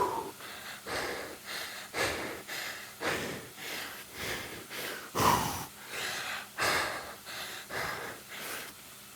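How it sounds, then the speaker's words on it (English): Heavy, rhythmic breathing during a hard indoor cycling workout, with loud, regular gasping inhale-exhale cycles repeating about once a second, close and prominent, with no talking. "Keep on top of your breathing,"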